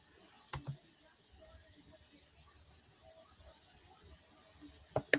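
Computer mouse clicks while sharing a screen: a pair of sharp clicks near the start and another pair near the end, separated by a quiet room tone.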